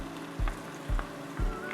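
Minced garlic hits melted butter in a pan for Cajun crab fried rice and fries with a steady close sizzle, broken by three evenly spaced stirring scrapes about half a second apart.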